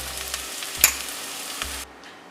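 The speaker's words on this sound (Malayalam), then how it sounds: "ഇത് തണുക്കുന്ന സമയം കൊണ്ട് നമുക്ക് ചിക്കന് ഫ്രൈ ചെയ്ത് എടുക്കാം." Chicken pieces fry in a pan for butter chicken, giving a steady close sizzle with one brief clatter partway through. The sizzle cuts off abruptly near the end, leaving a faint hiss.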